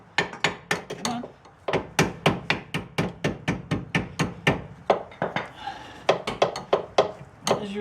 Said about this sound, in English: Just little taps, try to get it to go in.